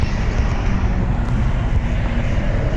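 Steady street traffic rumbles outdoors, with cars passing continuously and a constant low roadway drone mixed with light wind and no distinct individual vehicles.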